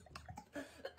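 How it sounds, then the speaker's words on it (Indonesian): A person coughs in a few short, rough bursts spread over about a second, fairly quiet and with no talking. "Masih batuk juga sih."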